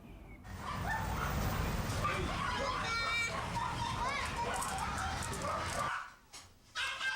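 Several dogs barking and yipping amid excited children's voices, a busy, fairly loud cluster of barks that cuts off abruptly near the end.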